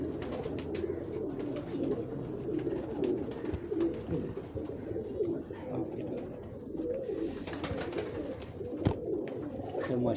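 Pigeons on a Lahore rooftop coo softly in a steady murmur at moderate distance, with occasional wing flutters and sharp clicks scattered through.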